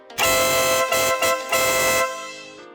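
A loud aftermarket horn fitted to a Harley-Davidson Pan America motorcycle blasts in three close bursts, the last held longest before a fading tail, with no talking.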